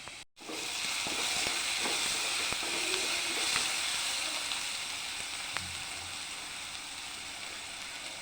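Onions sautéing in a pan for a chickpea curry, a steady hissing sizzle with a few faint stirring clicks, no talk.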